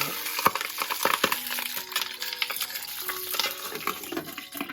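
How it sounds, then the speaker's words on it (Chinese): Pork knuckle turned over while pan-frying in an iron wok: a busy run of knocks, scrapes and clatters from the utensil against the wok over a constant sizzling crackle of hot oil. "煎的时候要经常的翻动，以免肉皮粘锅糊底。"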